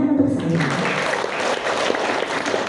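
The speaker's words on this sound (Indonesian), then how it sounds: "Tepuk tangan untuk saya." An audience at a storytelling session claps together in sustained, dense applause, starting just after a brief voice and filling the short stretch evenly at close range.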